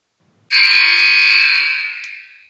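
A loud, steady electronic buzzer, the Royal Rumble countdown buzzer on a wrestling trivia game show, blares abruptly for about two seconds, then tapers off slightly at the end; no talking.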